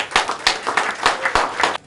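A short burst of hand clapping from a crowd, steady and moderately loud, lasting under two seconds.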